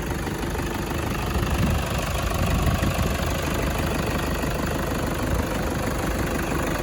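A 2003 Toyota Hilux Tiger 2.5 D4D diesel pickup engine idles steadily with a knocking, rattling clatter, continuous and fairly loud at close range.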